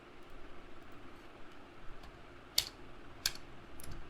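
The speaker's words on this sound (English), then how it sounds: "I don't know if you could hear the keyboard there. I love a loud keyboard." A few sharp, clicky keystrokes from a loud computer keyboard, sparse and separated, over a faint steady room hum.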